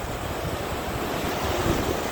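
Sea waves and surf at a beach wash in a continuous broad roar with wind buffeting the microphone, loud and close with no voices.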